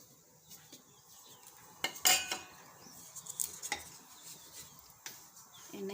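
Grated coconut is stirred in ghee in a metal kadai on a gas stove: soft scraping with a few sharp spoon clinks against the pan, fairly quiet and close, with no talking.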